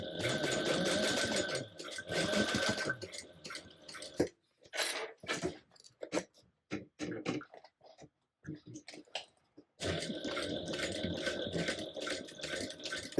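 Sewing machine stitching a second seam row on a tote bag, bursts of rapid close mechanical stitching at the start and end, with quieter handling clicks between, a voice speaking briefly.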